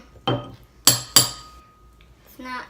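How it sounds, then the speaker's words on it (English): Metal spoon scraping and clinking against avocado skin while scooping out the flesh for guacamole, three sharp close knocks followed by a softer scrape, no talk. "And now let's scoop out the actual avocado."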